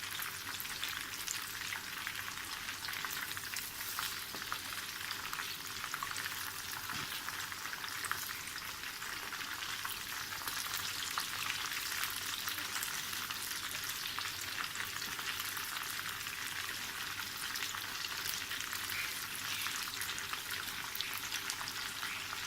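Quail pieces frying in a pan, a continuous bright crackle and sizzle of hot oil that holds steady and fairly soft throughout, with no talk.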